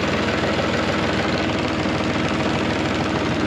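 A tractor engine idles steadily with a low, even mechanical rumble as the PTO is switched off, close and continuous with no voices.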